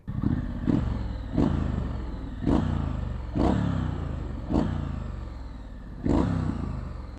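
A 2021 Triumph Street Scrambler motorcycle engine fires and revs in repeated surges, about six rises in rough succession, each blip fading back toward a rumbling idle, close by.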